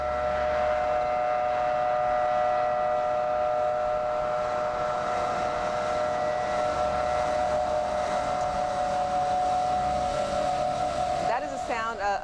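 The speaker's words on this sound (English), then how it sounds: "Of the sirens that you would hear throughout Kuwait City." Air raid sirens sound across Kuwait City during the Iraq War: a steady, wailing tone holds for about eleven seconds over a background rumble, then breaks into a rapid warbling sweep near the end.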